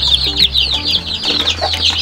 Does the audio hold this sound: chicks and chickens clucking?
yes